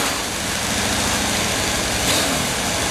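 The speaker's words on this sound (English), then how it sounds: "Turn the bike on." A Harley Davidson Dyna motorcycle idles in neutral just after starting during an oil change, a steady, loud, rumbling engine drone with no pauses.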